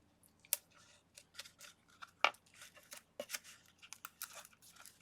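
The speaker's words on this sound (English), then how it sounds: "And just going to rip off some strips." Strips of pop dot foam adhesive are torn off one by one for a papercraft calendar page, giving soft, close ripping and peeling sounds in short bursts with quiet gaps between them.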